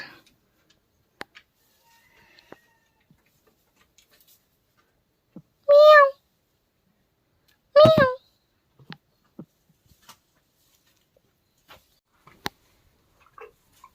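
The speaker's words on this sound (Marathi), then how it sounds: "दादा मांजर हाय" A cat meows twice, a few seconds apart, loud and close, with scattered small clicks and taps in an otherwise quiet room.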